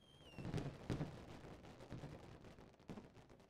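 Fireworks shot in the Fishing Planet fishing game go off as several soft, distant booming pops, two close together early and more spaced later, over a quiet background.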